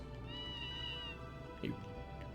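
Monsters in Tales of Phantasia letting out cat-like meows, a drawn-out wavering meow followed by a shorter cry, heard over game music.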